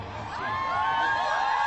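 A large crowd gathered in London's Hyde Park ahead of a royal wedding, cheering and whooping in a steady, swelling roar that builds over a couple of seconds and holds loud and continuous, with no individual voices standing out.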